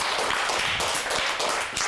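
Studio audience applause on an Italian local TV football talk show as it cuts to a commercial break, a dense, steady burst of clapping filling the room with no talking.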